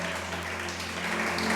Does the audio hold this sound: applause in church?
yes